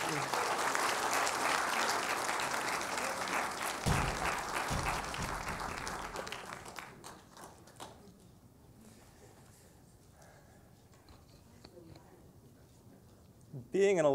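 Audience applause for an honoree at a New York City Council District 5 event, loud sustained clapping for about seven seconds that fades into quiet room murmur, then a short burst of sound at the end.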